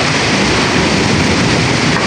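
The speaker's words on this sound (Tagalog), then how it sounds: "Sobrang lakas po ng alon, ayan po ay pupunta na po dito banda." Strong typhoon surf roars steadily as heavy waves churn and crash, a loud, continuous wash of noise without voices.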